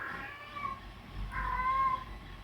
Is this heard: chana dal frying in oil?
no